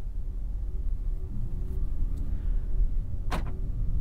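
A 2024 Volkswagen Atlas Peak Edition with a 2-liter turbo engine drives along, giving a steady low rumble of engine and road noise from inside the cabin and a brief sharper whine partway through.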